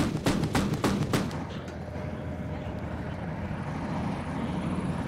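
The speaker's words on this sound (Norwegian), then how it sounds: "Skudd kommer!" Rifle shots during a Norwegian military operation in Afghanistan, several sharp cracks in quick succession at the start, then a fading rumble and open outdoor wind noise.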